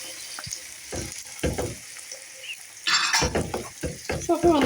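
Tomatoes sizzle and fry in a hot pan while being stirred, with bursts of crackling and scraping of the utensil against the pan, close and fairly loud.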